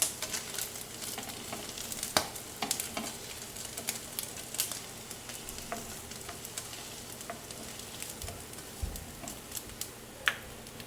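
Cashews frying in a little leftover ghee in a pan, a steady soft sizzle with scattered crackles and occasional sharper pops, close and fairly quiet, with no voices.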